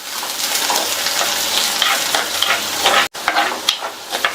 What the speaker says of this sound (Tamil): அடுத்து கறிவேப்பிலை எல்லாத்தையும் நல்லா வதக்கி விட்டுக்கலாம்.